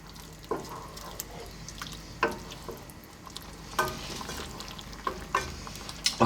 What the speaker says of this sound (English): we're going to drop in our paneer, and then we're gonna, on a medium heat, go for about 5 to 6 minutes. Give it a stir every now and then.